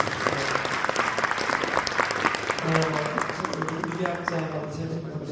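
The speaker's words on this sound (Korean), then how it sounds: "우리 박수 한번 하겠습니다" An audience at a church discussion forum gives a lively round of applause, close and continuous clapping for several seconds, with a voice speaking over it toward the end.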